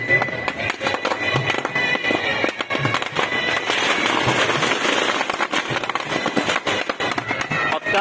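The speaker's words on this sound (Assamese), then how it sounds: "ফটকা আছে গাইজ তলত আৰু বহুত ফটকা আছে পৰি আৰু ফাটি আছে" Firecrackers burst nonstop during Durga Puja celebrations, a dense rapid crackling with sharp pops and bangs that fill the whole stretch, loud and close, with faint voices in the background.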